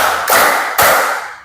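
A class of students standing for an ice-breaker does patterned group clapping: two loud, sharp, unified claps about half a second apart, each ringing briefly in the room.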